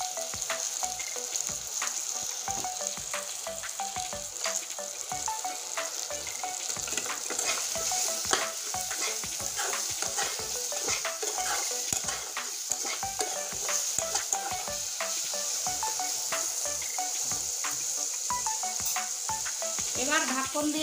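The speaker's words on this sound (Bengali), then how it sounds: "আলু আমি লাল লাল করে ভেজে দেবো একদম।" Potatoes sizzle steadily in hot oil in a pan, with a constant frying hiss and repeated scraping stirs throughout; no talking.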